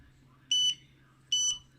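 An Andoer A360II camera gives two short, bright electronic beeps about 0.8 seconds apart, each lasting about a fifth of a second, clear against a quiet room with a faint low hum.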